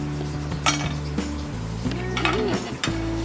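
A metal pan and utensil clink and scrape as dry-roasted poha, made without oil, is served onto a plate, with several sharp close knocks and a ringing tone between them.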